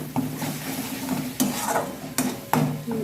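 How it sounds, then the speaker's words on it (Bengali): Spice paste for a coconut prawn dish fries over a low gas flame, sizzling under repeated spoon-against-pan stirring strokes that land as sharp scrapes every second or so. "মশলাটা যতক্ষণ না তেল ছাড়বে ততক্ষণ পর্যন্ত আমি গ্যাস সিম করে কষিয়ে যাব।"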